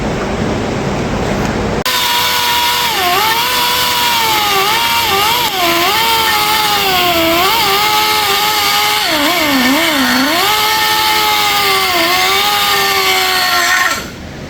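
Angle grinder working the welded seam of a TIG-welded metal joint, a loud continuous whine that wavers in pitch as the disc loads and eases against the steel, running steadily for about twelve seconds before cutting off.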